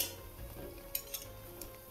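Medu vada, urad dal fritters, frying in oil while being stirred, with a steady low sizzle and a few light clinks of the stirring utensil against the pan, close by and without talk.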